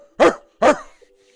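Two loud, sharp dog barks close by, spaced about half a second apart, with a faint short tone after the second bark.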